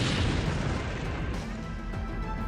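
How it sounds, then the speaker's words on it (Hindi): A drone detonates near a national monument in Lviv, western Ukraine: a dense, loud, rumbling blast that roars steadily for the whole stretch, with no pause or quiet tail. "यूक्रेन के एक राष्ट्रीय स्मारक के पास पुतिन का ड्रोन फटा"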